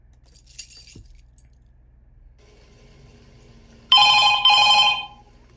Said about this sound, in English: phone ringing is the loudest part of this thing